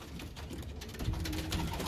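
Cooing from a Gannis cockbird pigeon inside a loft, low soft repeated coos close by over a steady murmur of room noise, with no talk.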